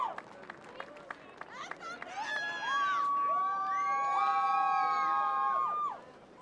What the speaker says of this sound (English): They're screaming pretty loud.